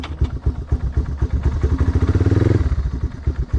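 A Yamaha Timberwolf 250 ATV with carburetor issues idles close by, a steady loud thumping single-cylinder putter with a slight clatter.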